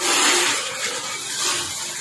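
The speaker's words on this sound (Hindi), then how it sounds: "सबसे पहले इसमें डालेंगे हम पानी।" Water pours steadily into a machine as part of a batch that takes 16 litres, making a continuous broadband rush and splash that stays loud throughout and has no speech over it.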